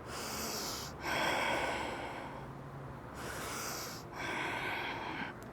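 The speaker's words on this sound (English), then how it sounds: "2 more breaths." Slow, deep yoga breaths held in locust pose, each long inhale and exhale audible and close, with brief pauses between breaths and no talking.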